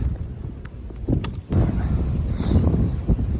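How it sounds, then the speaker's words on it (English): Strong wind on a mountain trail near Cooper Gap on the Appalachian Trail buffets the microphone in heavy, rumbling gusts, a constant low roar that swells and surges with no voices. "let's get out of this wind."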